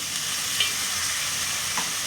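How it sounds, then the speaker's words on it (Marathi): Chopped banana flower sizzling as it fries in hot oil tempering, a steady crackling hiss close by with light stirring, no talk. "अशा तऱ्हेने आपण सगळी भाजी फोडणीला घालून घेऊया"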